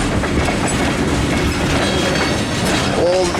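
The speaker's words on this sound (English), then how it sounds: "Well, this train will not be in a hurry. I think they're 10 miles an hour through here. Jointed rail." A CSX freight train of tank cars rolls slowly over jointed rail close by. Its wheels clack steadily and loudly throughout, and brief wheel squeals rise near the end.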